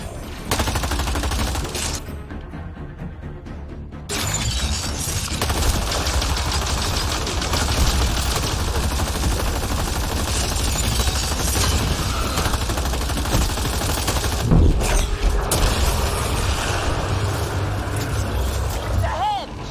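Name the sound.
gunfire in the video game Mass Effect: Andromeda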